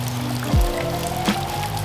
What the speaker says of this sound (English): it is just raining everywhere